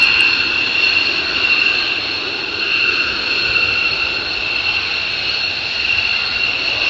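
F-100 jet aircraft roar past loud and close in a steady, sustained whine-and-rumble that holds at nearly even loudness for several seconds.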